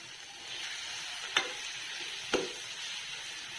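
Cooked fish roe stirred and broken into crumbs in a frying pan, with a constant soft sizzle and two sharp scrapes of a utensil against the pan, close, with no voices.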